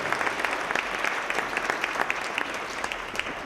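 Audience applause after a personal testimony at a university foundation evening ceremony, dense sustained clapping from a crowd in a hall, even and continuous throughout.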